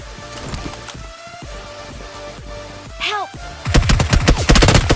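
Gunfire in a third-person squad shooter video game, with scattered single shots early on and then a loud rapid burst of automatic fire near the end, plus a brief whooshing effect in between.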